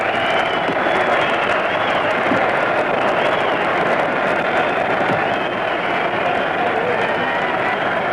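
A huge boxing crowd roars without a break at the Dempsey-Carpentier heavyweight fight, a dense, loud wash of cheering and clapping that fills the space with no pause.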